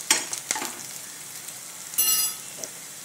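Green chilli and onion frying in oil for a Marathi-style masoor dal fry, a steady close sizzle broken by a few sharp stir scrapes and a brief louder hissing burst near the end.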